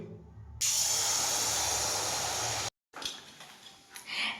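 Batter dropped into very hot cooking oil, sizzling loudly and continuously for about two seconds, then a brief silence before softer, uneven frying crackles resume close by.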